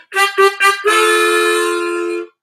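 Harmonica played by breathing in through hole 4: three short separated draws followed by one longer held note, bright, close and alone.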